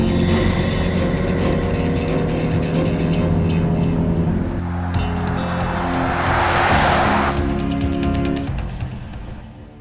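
A car driven fast: a loud, steady engine roar runs throughout, swelling into a rushing whoosh of wind and road noise in the latter part before easing off near the end.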